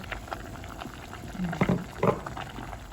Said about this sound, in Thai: เดือดแล้วพี่น้อง